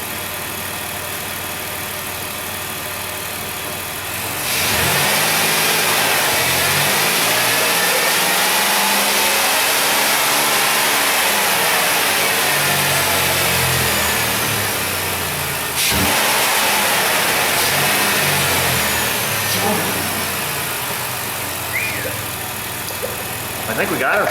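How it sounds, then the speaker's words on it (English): A Dodge Grand Caravan's 3.8 V6, freshly replaced, idles and then climbs through a couple of loud, close revs that hold steady before dropping back and rising again. "Give her a couple little rev up tune up here."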